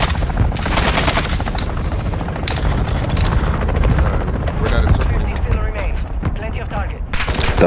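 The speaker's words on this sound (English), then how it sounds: "This helicopter keeps dropping off" A helicopter in a video game whirs loudly and continuously, with rapid gunfire bursts and chatter mixed in throughout, and voices talking over the din.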